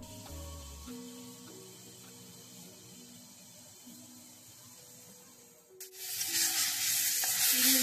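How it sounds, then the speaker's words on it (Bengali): Onions frying in a pan, a quiet sizzle under faint tonal background hum that swells abruptly into a loud, bright hiss near the end, as if freshly stirred or added. "আমি পেঁয়াজটাকে ভেজে নিয়েছি"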